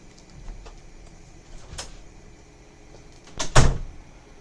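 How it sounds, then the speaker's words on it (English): A door shuts with a sharp thud and rattle near the end, preceded by a couple of faint clicks and knocks in an otherwise quiet room. "Now go ahead and leave so you can close the door because that's really loud on the videos."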